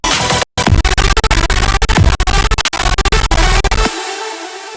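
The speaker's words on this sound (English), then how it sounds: "I really wanted to make some heavy hitting hard wave," Heavy-hitting hardwave drop with a pounding distorted kick, layered snares and a dense, gritty synth wall, loud and relentless, cutting out abruptly near the end to a fading low tail.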